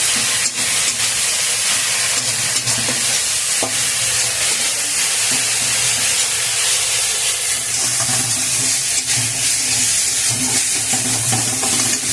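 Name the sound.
jute leaves frying in a pan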